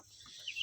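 Faint, brief high-pitched peeping of three-week-old kampung chicks, a couple of short chirps close together.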